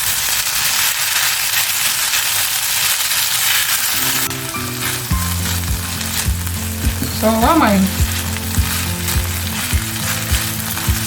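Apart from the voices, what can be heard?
fish filling frying in a pan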